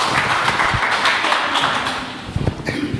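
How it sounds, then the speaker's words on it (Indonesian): An audience applauds at an Indonesian talk event, a dense, steady patter of clapping that fills the room and swells with a few louder claps near the end. "Tepuk tangan dong."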